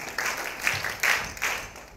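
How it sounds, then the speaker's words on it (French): Short burst of scattered audience clapping at a French-language film club screening, a few uneven clusters of claps from a small crowd over two seconds. "Applaudissez pour vous-même."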